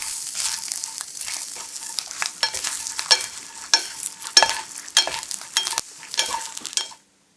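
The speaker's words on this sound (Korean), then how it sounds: "꽈리고추가 살짝 익으면 뽀송한 멸치를 넣고 30초 정도 다시 볶아줍니다." Shishito peppers stir-fried with dried anchovies in a pan, a loud, close sizzle broken by rapid, repeated spatula scrapes and tosses, ending suddenly in silence.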